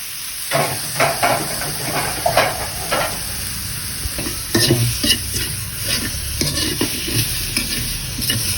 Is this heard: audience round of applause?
no